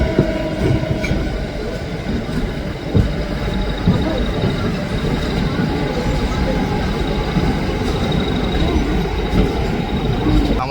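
Shantiniketan Express running at high speed from Howrah toward Bolpur on a 130 km/h line, with a steady, loud rumble of rolling wheels and carriage noise lasting throughout.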